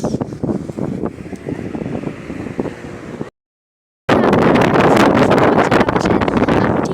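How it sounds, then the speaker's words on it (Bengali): Strong wind at the Rupsa bridge, buffeting a close microphone with a dense roaring rumble, broken by a short silent gap before returning louder and steadier. "জানি না কিন্তু প্রচণ্ড বাতাস হচ্ছে"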